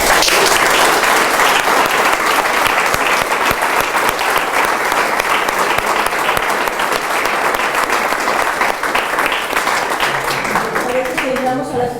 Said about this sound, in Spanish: Es un aplauso, ¿no?